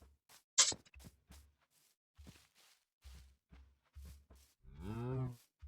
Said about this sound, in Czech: Tak aspoň máme už jednu krávu.